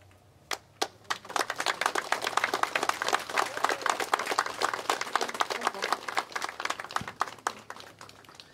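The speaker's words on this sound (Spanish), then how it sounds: "quiero pedirle un fuerte aplauso a nuestro Santo Patrón, la exaltación de la Santa Cruz" Crowd applause at a village patron saint festival honoring the Exaltation of the Holy Cross, starting with a few sharp claps then swelling into sustained, fairly close clapping that tapers slightly near the end.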